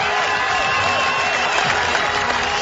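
Pakistan supporters at a cricket ground in a one-day international against Ireland applaud Sharjeel Khan's century, a dense, steady roar of clapping and crowd noise that fills the whole stretch without a break.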